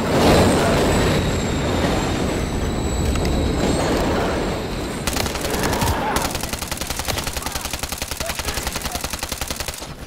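Train passing in the Call of Duty: Modern Warfare III campaign, a loud rumbling roar of rail cars rushing close by with a high wheel squeal, turning into rapid rhythmic clacking over the rails, with gunfire and faint voices mixed in.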